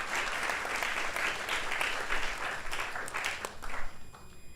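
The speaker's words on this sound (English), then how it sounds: "We give them a big round of applause." An audience gives sustained applause for sponsors at a Krishna Katha gathering, many hands clapping steadily for several seconds before fading toward the end.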